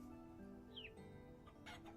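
A Vintage Story game rooster gives a brief squawky cluck and a few chirpy calls against a constant low ambient drone, faint and alone with no voices.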